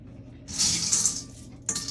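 Water from a tap gushes into a sink or container for washing Lego pieces, two close bursts of splashing flow with a brief pause between them, no talk.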